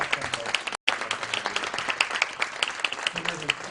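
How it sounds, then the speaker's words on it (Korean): An Easter service congregation applauds warmly, steady clapping from many hands with a brief dropout near the start, crowd murmur underneath. "뜨거운 박수 한번"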